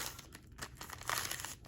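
Six Panini Select Football card packs are shuffled by hand, giving a close run of crinkling and rustling wrapper sounds with short crisp bursts, with no talking.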